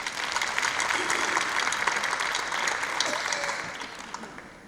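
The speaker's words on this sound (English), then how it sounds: "So please would you give them a round of applause." Applause from delegates at an annual general meeting in a conference hall, a sustained round of clapping that swells and tapers gradually.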